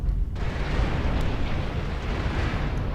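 A missile explosion in the mech combat game Mechwarrior Online rumbles as a heavy, continuous low boom with a dense blast texture, loud and sustained throughout.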